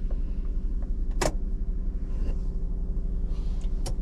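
Parked car with its engine running, a steady low rumble throughout, with a few sharp clicks and handling noises over it and no talking.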